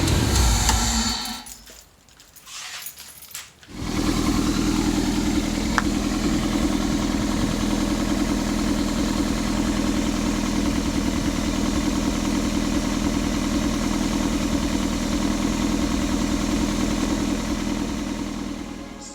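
A turbocharged Toyota MR2 Spyder engine starts and settles into a steady, rumbling idle with a deep exhaust drone that holds evenly and close for the rest of the clip.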